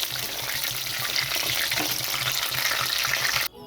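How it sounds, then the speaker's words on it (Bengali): Chicken pakora fries in hot oil, giving a steady close sizzle and crackle that runs without a break, then cuts off abruptly near the end. "ভাজা হয়ে গেছে তো আমি এখন এগুলো নামিয়ে নিচ্ছি"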